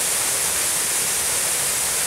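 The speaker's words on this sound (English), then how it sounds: "Not a bad wee waterfall actually." A small waterfall at Dyemill, Lamlash, giving a steady, even rush of falling water, close and fairly loud, with no other sounds.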